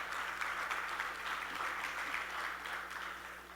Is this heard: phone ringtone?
no